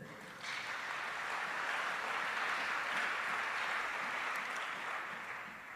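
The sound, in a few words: congregation applauding and cheering in church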